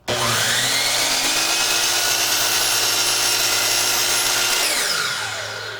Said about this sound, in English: I could take this piece of PVC board down on the table. All right, I'll just do a straight cut.